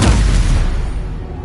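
A Confringo blasting curse detonates in Hogwarts Legacy, a loud, close booming explosion with a heavy low rumble that decays over a second and a half; no voice.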